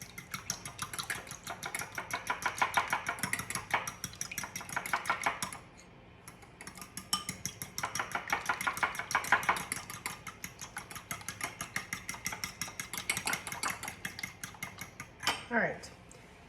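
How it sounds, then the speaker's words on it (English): A fork whisking a cheesecake mixture with vanilla bean in a bowl, rapid rhythmic clicking and scraping in close bursts with a brief pause midway. "we're just gonna take our little fork here and just give this a little whisk"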